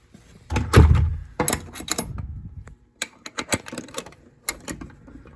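A latch and lock are mounted onto a door: a string of close, sharp metallic clicks, knocks and scrapes of hardware against wood, irregular and busy, with short pauses between bursts.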